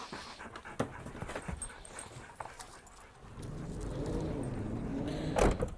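Several dogs pant and shuffle about at close range, with soft breathing and movement noises and a short louder burst near the end; no talking.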